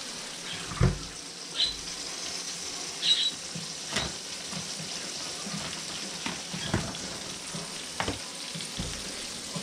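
Chicken wings frying in hot oil give a steady, fairly quiet sizzle throughout, with occasional soft knocks and clatters from the pan nearby.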